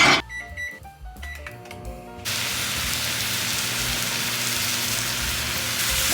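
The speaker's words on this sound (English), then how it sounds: "Gonna go in the microwave." A steady, even whir with a broad hiss takes over after a couple of seconds of clattering and lasts to the end, like a microwave oven running.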